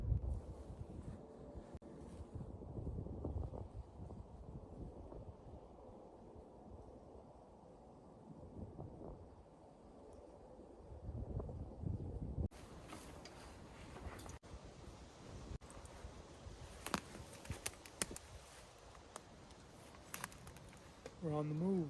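Strong wind blowing through woodland during a high-wind hunt on Pennsylvania public land, a steady low roar with gusty buffeting against the microphone that swells louder and brighter partway through.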